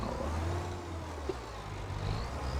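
A tractor engine in a farming video game set on a highlands map drones steadily at a low, even pitch, with a slight rise in revs near the end and no talking.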